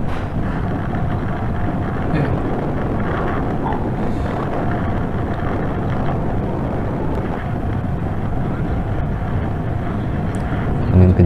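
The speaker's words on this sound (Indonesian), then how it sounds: "Angin kenceng sampai suaraku tak jelas." Strong mountain wind buffets the microphone in a continuous low roar that stays steady and loud throughout, with no clear voices breaking through.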